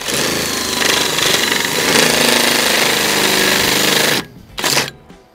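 A power tool chamfers the cut end of a plastic drainage pipe with a loud, steady grinding buzz for about four seconds, then stops, followed by a short second burst near the end.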